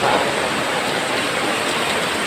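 Steady rain pours down close by during a downpour of about thirty minutes, a dense, even hiss of water that fills the whole moment with no voices over it.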